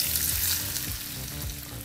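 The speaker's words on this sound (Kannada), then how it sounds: "ಈಗ ಸಿದ್ಧವಾದಂಥ ಈ ಒಗ್ಗರಣೆಯನ್ನು ಉಪ್ಪಿನಕಾಯಿಗೆ ಹಾಕ್ಕೊಳ್ಳೋಣ." Hot tempering with curry leaves poured into mango pickle, crackling and sizzling loudly and continuously up close, with a few sharper bursts of spitting oil and no talk.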